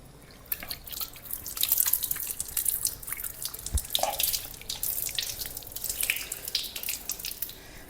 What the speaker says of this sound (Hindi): तो इस तरीके से पानी लें और क्या कहते हैं बढ़िया अच्छी तरीके से धोना, नीचे से भी हाथ फेर लें।